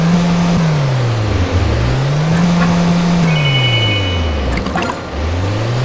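A racing video game's car engine revs continuously, its pitch rising and falling in smooth repeated sweeps as the car accelerates and shifts, with a steady wash of road noise and no voices.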